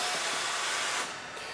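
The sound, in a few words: Hunter TC39 tire changer roller moving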